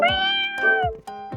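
A cat meows twice close by, a long drawn-out call followed by a shorter one, with no other sounds around.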